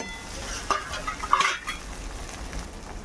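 Wild mushrooms fry in a pan with onion, chili powder and salt, a soft steady sizzle broken by a few scraping stirs of a spoon against the metal.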